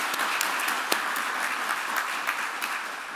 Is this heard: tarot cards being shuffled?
no